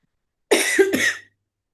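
A single harsh cough, close and fairly loud, breaks into two rough bursts lasting under a second before silence returns.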